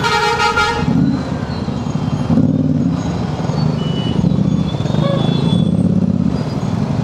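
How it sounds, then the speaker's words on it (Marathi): A truck horn toots a musical tune on a road, loud and close, with steady traffic and engine rumble continuing underneath throughout. "ट्रकवाला गाणं असे करतोय."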